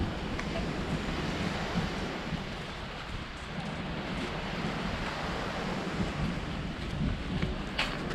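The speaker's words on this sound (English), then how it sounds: "this is one of two beaches here in Macau" Surf at Cheoc Van beach in Macau, a steady broad wash of breaking waves and wind with no distinct individual crashes; continuous and moderately loud, without talk.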